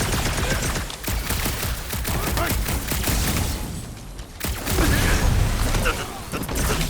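Dense, continuous automatic gunfire and booming impacts fill a combat scene in the video game Marvel's Guardians of the Galaxy, loud and sustained with a brief dip midway, while character voices shout over it.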